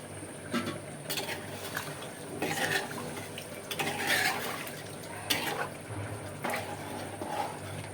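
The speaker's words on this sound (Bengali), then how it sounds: "এবার আমি জল দিয়ে পানি দিয়ে দেবো" Cold water splashes and pours into a pot, with clinks of metal utensils, moderately close and fairly quiet, no talking.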